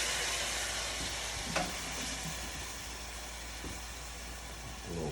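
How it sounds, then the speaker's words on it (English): A pan of pork sizzles steadily while liquid deglazes and reduces, giving a constant close frying hiss with a few faint clinks of stirring. "And let it deglaze and let it reduce."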